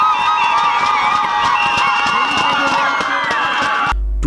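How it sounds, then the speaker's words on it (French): A crowd at an ESSEC student fashion show cheers and shouts loudly, with high voices and scattered claps forming a steady, excited roar that cuts off abruptly at the end. "le tout couronné par des tonnes d'applaudissements d'une marée humaine déchaînée"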